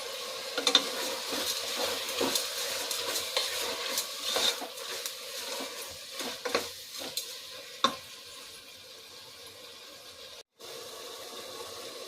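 Tomatoes roasting with salt in a pan as a spoon stirs them, a soft steady sizzle broken by repeated scraping and clinking strokes, close and moderately loud, with a short gap near the end; nobody speaks.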